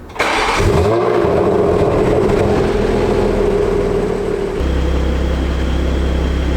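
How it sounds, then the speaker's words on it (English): A 2020-2023 Toyota Supra with the BMW-built B58 engine cranks and fires up, then settles into a loud, steady idle with a slight drop in pitch after a few seconds, close by. "we're going to start up the car"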